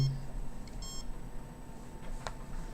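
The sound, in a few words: microwave radiation detector beeping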